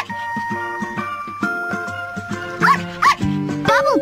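Bubble Puppy, a cartoon dog in a Bubble Guppies children's video game, gives several short, bright yips and barks over a tinkly musical backing.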